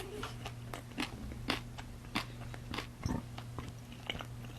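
Crunchy pizza crust being bitten and chewed up close, a steady series of crisp, crackling bites and chews over a low constant background hum, with no talking.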